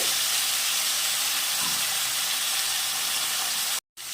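Potato and pumpkin pieces frying in a pan give a steady, loud sizzling hiss that runs unbroken before cutting off abruptly near the end.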